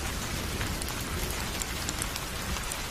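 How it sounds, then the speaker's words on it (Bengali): Heavy rain pours steadily outside as a horror-story sound effect, a dense, continuous hiss of drops with no pauses, loud and even throughout. "বাইরে কি ভীষণ বৃষ্টি হচ্ছে"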